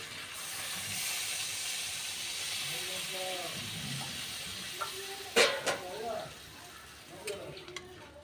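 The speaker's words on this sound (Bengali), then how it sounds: "এবার দিয়ে দেবো আমি জল।" Water hits a hot pan of Bengali fish curry, setting off a loud, sustained hiss of steam and sizzling, with brief metallic knocks and scrapes near the end.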